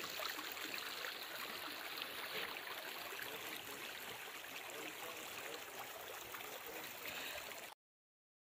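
A small stream of water flows steadily through Castlewood Canyon in Colorado, a continuous close gurgling trickle with no voices, running unbroken until it cuts off near the end.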